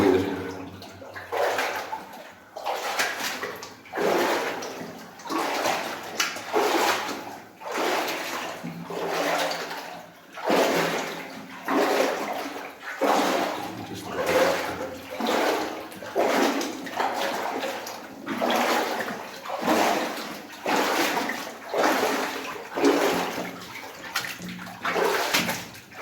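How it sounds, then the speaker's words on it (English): Water runs and drips steadily in a forgotten corner of a New Zealand North Island goldfield, the flow rising and falling in soft rhythmic surges for the whole stretch, close by with no voices. "I don't know, it's just water dripping"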